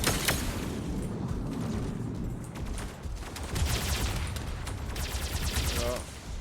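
Robot gunfire from the Mech Arena combat game: rapid bursts of automatic fire and booming impacts roll on almost continuously, loud and dense, with faint speech mixed underneath.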